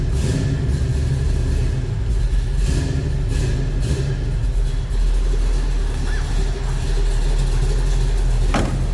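A 1970 Dodge Challenger R/T engine idles steadily at close range while warming up in neutral, a deep, rumbling, continuous drone with slight unevenness and no voices.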